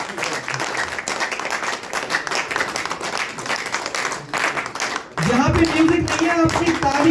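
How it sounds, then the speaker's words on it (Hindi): A crowd claps steadily at an outdoor team rewards celebration on a Shimla tour, the applause running continuously with voices mixed in, then loud music cuts in over the clapping near the end. "दोस्तों तालियां बजती रहनी चाहिए।"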